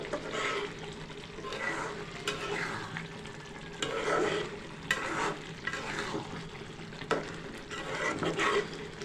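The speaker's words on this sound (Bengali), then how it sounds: "ভালোভাবে এটা নেড়ে চেড়ে দিচ্ছি যাতে নিচে ধরে না যায়, কারণ পানিটা যেহেতু শুকিয়ে আসতেছে এটা কড়াইয়ের সাথে লেগে যেতে পারে" Chicken skin cooked with mung dal is stirred in a kadai as the liquid dries down, giving a soft continuous sizzle broken by repeated scraping strokes of the spoon against the pan.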